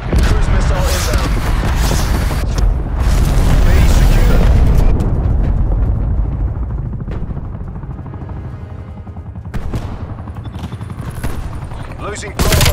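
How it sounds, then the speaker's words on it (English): Cruise missile explosions in Call of Duty: Black Ops Cold War multiplayer: heavy rolling booms and dense crackling blasts fill the first half, then fade into a rumbling aftermath with a sharp later hit. "Cruise missile inbound."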